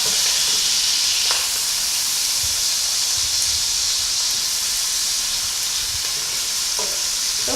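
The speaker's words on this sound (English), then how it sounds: "let the onions fry for like 2 minutes or less." Onions fry with white pepper in a pot, the start of a beef tripe stew. A loud, steady sizzle and hiss runs without a break, with a few faint clinks from stirring. No one speaks.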